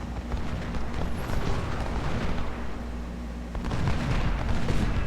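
Cannon volley in the Ultimate General: Civil War game at the Bull Run battle, a continuous dense rumble of booming artillery fire and bursts, growing slightly louder toward the end, with no talk.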